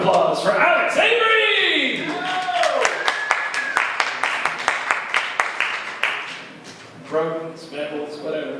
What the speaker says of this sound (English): Big round of applause for Alex Avery!